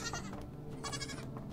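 Goats bleat in a VRChat game world, a couple of drawn-out wavering cries heard faintly over a steady background hum.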